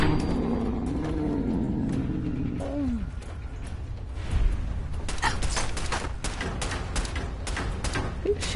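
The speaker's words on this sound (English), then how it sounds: "He's shooting at me through the floor." Muffled gunfire comes up through the floor in Fallout 4, a run of sharp sharp cracks in the second half under game ambience and a low animal-like growl earlier.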